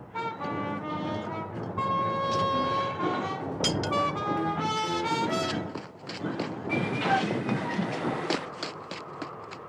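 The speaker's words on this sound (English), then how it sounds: "We're stopping the train." A train slows to a stop, with wheels clattering and metal squealing in long tones, and a few spoken words mixed in.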